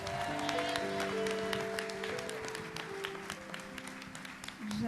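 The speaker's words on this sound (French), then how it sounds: "Est-ce qu'on peut acclamer pour Jésus?" Congregation applauding for Jesus at a church service, steady clapping spread through a crowd over sustained music, continuous for the whole stretch at moderate loudness.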